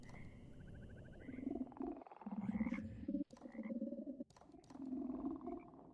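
A frog-like character in the video game Mortal Shell croaks in deep, rolling bursts, close and prominent over a low ambient bed, with several breaks between croaks.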